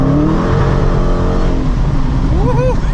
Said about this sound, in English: I'm gonna give it a little gas and see what happens.